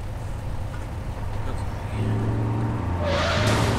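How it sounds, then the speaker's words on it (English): Garbage truck driving in the video game Saints Row IV, a steady rumbling engine drone that grows louder and fuller toward the end, alone without talk. "Motherfucking garbage trucks!"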